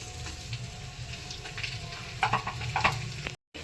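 Dates sizzling in ghee in a pan on a low gas flame, a continuous gentle frying hiss with several short scraping stirs near the end, up close and with no voices.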